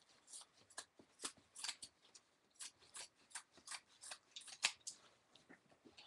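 Scissors snipping through paper for a mini album, a quick run of crisp, close cuts repeating in an uneven rhythm with no talking.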